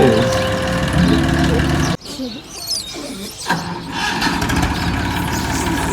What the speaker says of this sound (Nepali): ट्र्याक्टरको मिस फायर त्यस्तै हुन्छ